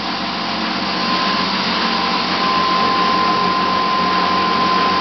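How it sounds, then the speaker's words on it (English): A small 400-watt spin dryer spins a load of washing with a steady, loud whirring hum that holds an even pitch throughout, with no voices. "This little spin dryer is only 400 watts."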